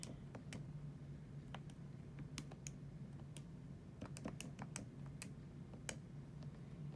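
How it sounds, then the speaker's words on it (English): Numbers are tapped into a calculator as a series of sharp, irregular clicks, close and faint, over a steady low hum. "all we have to do is type that into our calculator"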